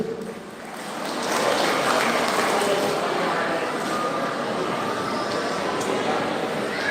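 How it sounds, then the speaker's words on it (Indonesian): A crowd at a Batak clan New Year celebration in Bandung breaks into applause for the organizers, swelling after a second into a sustained, fairly loud wash of clapping with voices mixed underneath. "Tepuk tangan untuk pengurus Indonesia."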